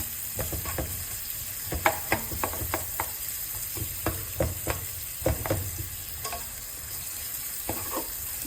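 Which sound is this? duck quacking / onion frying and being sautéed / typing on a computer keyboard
onion frying and being sautéed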